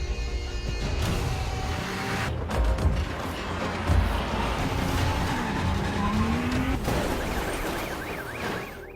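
An action-film car chase plays out with loud engine roar, squealing and skidding tires, and sharp impact bursts, all dense and close with no voices.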